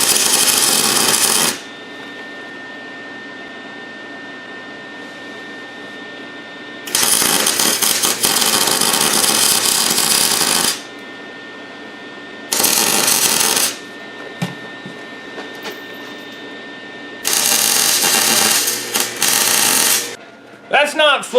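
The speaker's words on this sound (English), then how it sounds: "so I'm going to give that a weld now" Arc welding on a trailing arm of an old Toyota Camry, with four loud bursts of steady crackling buzz separated by quieter gaps of faint hum and small clicks.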